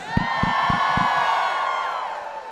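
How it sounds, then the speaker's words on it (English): A crowd at an outdoor university lawn-lighting celebration cheers and whoops loudly, sustained shouting voices filling the air while a few low thumps land near the start. "Let's give the final round of applause for our poem readers"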